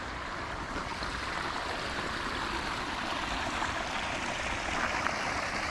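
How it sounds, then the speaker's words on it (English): Water pours continuously down a 14-foot pondless garden waterfall with a small bog at the top in a Japanese-style garden, a steady, even rushing splash close by with no break. "this is what the water feature looks like"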